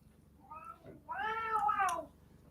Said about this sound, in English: that's my cats fighting with each other.